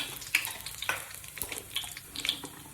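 Cumin, mustard seeds and bay leaf fry in hot oil with a faint, light crackle and a few sharp pops and clinks spread across the moment.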